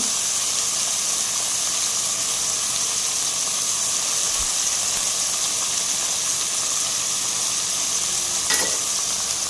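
Tomatoes and green chillies frying in a pan for a paneer capsicum curry, giving a steady, dense sizzle and hiss throughout with a faint clink near the end.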